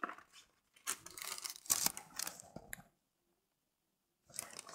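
Unboxing a Glossybox beauty subscription box: a series of close crinkly tearing and cutting noises in short bursts, a few sharper snips, then a quiet pause before more rustling resumes.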